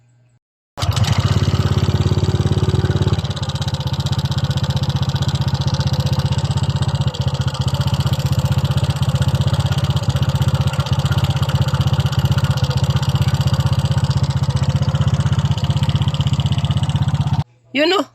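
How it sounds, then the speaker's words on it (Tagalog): Honda Click 125 scooter engine fitted with Block 56 cams and valve springs, starting up and idling loudly up close with a steady mechanical ticking, stopping near the end. "para marinig natin mismo ng malapitan ang tunog ng kanyang makina"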